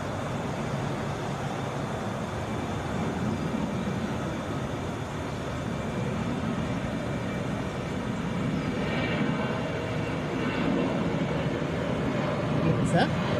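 A Delta Boeing 737 airliner at Atlanta's airport, a broad steady engine roar at a distance that swells slightly toward the end, with people talking over it.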